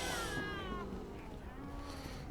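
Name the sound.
cat meowing in DayZ video game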